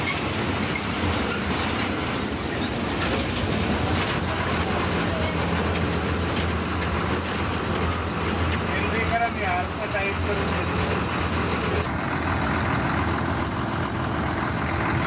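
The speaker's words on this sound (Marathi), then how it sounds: "जवळजवळ पाऊण तासाच्या प्रवासानंतर आपली गाडी मुरबाड स्थानकात प्रवेश" An MSRTC shuttle bus from Kalyan pulls into Murbad bus station, with a loud, steady engine rumble and rattling road noise throughout and voices mixed in.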